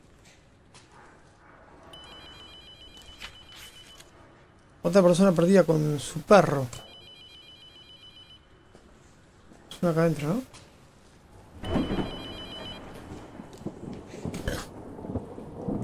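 A telephone rings faintly in an abandoned, unpowered building in the horror game Abandoned Souls, a thin electronic trill repeating in several short bursts, with someone talking over it and a rain-like ambience behind.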